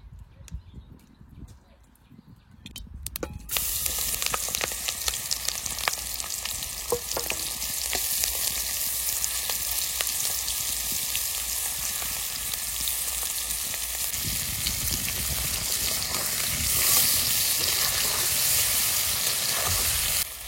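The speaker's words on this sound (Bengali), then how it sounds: "এবার মাছটা ভেজে নেবো, একটু তেল দিয়ে মাছগুলো ভেজে নেবো।" Fish frying in a little oil in a home kitchen, giving a steady, loud, continuous sizzle that starts after a few seconds of quieter sounds and carries on evenly to the end.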